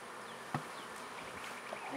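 Honeybees buzz continuously in a dense, steady hum, close by, with a couple of soft clicks, during the splitting of a beehive.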